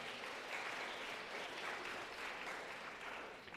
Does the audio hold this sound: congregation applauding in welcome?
yes